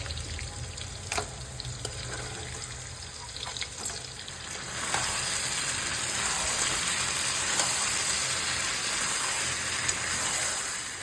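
Paneer masala is stirred and fried in a pan, a continuous close sizzle with scattered scraping clicks that swells into a louder, fuller hiss midway and stays there. No voices are heard.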